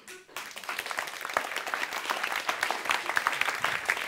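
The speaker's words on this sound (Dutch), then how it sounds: "Gun die mensen hun applaus." An audience at a literary event gives applause after a poetry reading. The clapping swells quickly into a dense, steady ovation with no talk over it.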